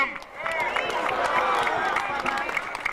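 Crowd applause at a Washington DC rally, a broad, sustained wash of many hands clapping with some cheering mixed in, filling the space evenly for a few seconds.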